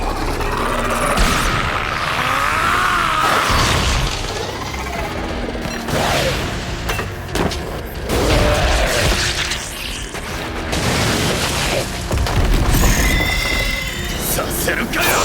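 Loud booms, bursts and clanking mechanical impacts from an anime battle scene in a fantasy hero series come in repeated waves across the span, mixed with shouted voices.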